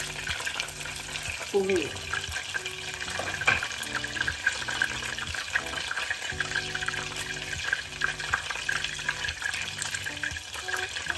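Butter sizzles and crackles steadily in a pan as its water cooks off on the way to brown butter, a faint, dense frying hiss with clinks, while a person speaks briefly.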